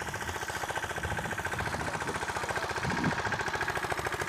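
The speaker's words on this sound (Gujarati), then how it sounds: "તો આપણું ટ્રેક્ટર મસ્ત મજાનું હાલે છે." A tractor working in a peanut field in rural Jamnagar, Gujarat, runs steadily nearby with a rhythmic, throbbing diesel chug and vibration that holds an even pace throughout, with no talking.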